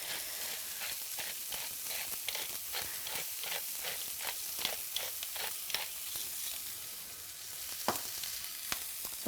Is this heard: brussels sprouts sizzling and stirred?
yes